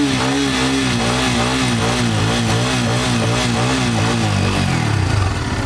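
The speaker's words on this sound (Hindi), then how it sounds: "पहले स्टार्ट कर लिया है, साउंड सुनिए, बेस सुनिए N250 का भी।" Bajaj Pulsar N250 motorcycle engine with a double-barrel exhaust, running steadily close by at a loud, throbbing idle with a deep bass pulse, the pitch shifting near the end as the revs change.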